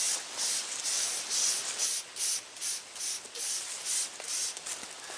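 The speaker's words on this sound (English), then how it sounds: "We're going to spray down the inside." Scent eliminator sprayed onto a wooden hunting blind, heard as a rhythmic series of short, close hissing bursts, about nine spray pumps in quick succession with brief gaps between them.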